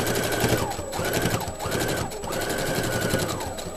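A home sewing machine runs in steady stitching bursts while hemming near the bottom edge of a boutique hand towel, the motor whirring loud and close with brief slowdowns between runs and no talking.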